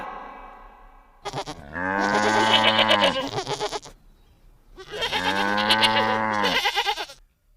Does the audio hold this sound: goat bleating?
yes